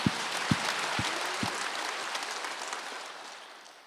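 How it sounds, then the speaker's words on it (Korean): Congregation at a Korean church Wednesday worship service breaking into applause, a few sharp claps at the start swelling into a steady wash of clapping that slowly fades. "박수를 하세요."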